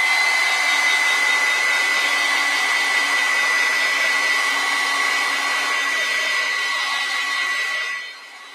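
A hair dryer blows steadily and loudly close by over a watercolor and ink card, a constant whooshing whine that cuts off near the end.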